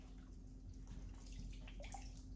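Water dripping and trickling from soaked Italian seasoned bread being squeezed by hand for meatballs, soft close splashes and drips over a steady low hum.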